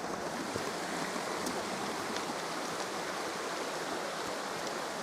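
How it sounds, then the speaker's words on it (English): The River Ystrad flows past in a continuous broad rushing wash of water, steady and fairly loud with no other sounds. "So that's the Avon Ystrad, or River Ystrad"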